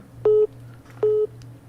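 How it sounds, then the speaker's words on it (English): Another telephone ringing in a live radio call-in studio: two short, steady electronic tone bursts about a second apart over a low background hum. "You have another phone ringing there."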